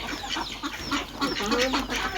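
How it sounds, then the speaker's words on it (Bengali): Ducks emerging one by one from a dark shelter give a few short quacks and honking calls close by, mixed with a person talking over them. "ওই যে হাঁসগুলো অন্ধকারে এই যে হাঁসগুলা বের হচ্ছে আস্তে আস্তে"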